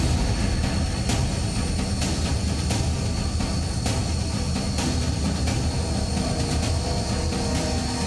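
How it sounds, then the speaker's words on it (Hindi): Fighter jets such as Sukhoi and Mirage roar over the 3.2 km Purvanchal Expressway airstrip in Sultanpur, a loud continuous broadband rumble with repeated sharp bursts, steady and close throughout. "पूर्वांचल एक्सप्रेस वे पर लड़ाकू विमानों की गर्जना सुनकर दुश्मनों के होश उड़ जाएंगे"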